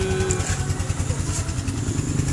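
Motorcycle engine running and being revved during a check of a battery that keeps going flat and a charging voltage that won't rise; a close, steady, throbbing engine note holds throughout with no talk.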